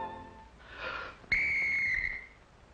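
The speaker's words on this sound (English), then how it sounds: "a whistle you must blow when you find bad uns in your wall" A shiny gold whistle blown loudly in a 1945 cartoon, one shrill sustained blast lasting about a second after a brief breathy rush, with no voices.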